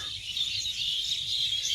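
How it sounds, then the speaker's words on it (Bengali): Steady high-pitched bird chirping outdoors, continuous and fairly close, with a faint low rumble underneath and no talking. "শুধু পাখিদের ডাক শোনা যায়"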